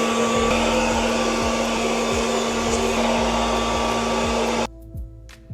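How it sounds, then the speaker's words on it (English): A blow dryer in an Amsterdam hotel room runs loudly and steadily with a constant whining hum for several seconds, then cuts off abruptly into near silence. "Check out this blow dryer."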